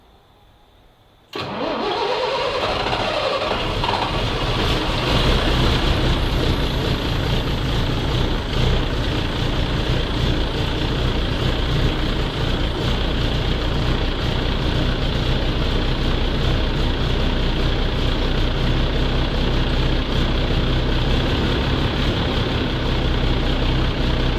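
A Volvo car engine cranks after a moment of quiet, catches, and settles into a loud, steady idle in a garage, the running continuing uninterrupted with a rough, droning tone.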